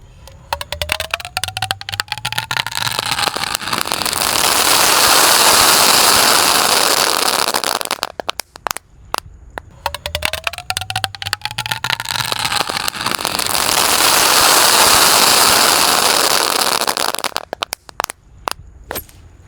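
Dino egg firecrackers from two boxes burning inside a plastic water jug, crackling and popping in dense rapid bursts that swell into loud sustained roaring hiss, twice over, separated by brief lulls of scattered crackle.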